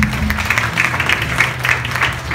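An audience at a recital evening claps in a moderately loud, steady burst of applause lasting a couple of seconds, with some faint voices underneath.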